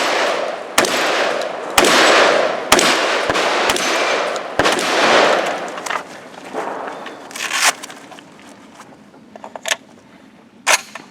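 Shotgun blasts at a gun club match striking a steel spinner target, a string of loud sharp reports with echoing tails, several in quick succession, then fainter metallic clanks and a few spaced shots.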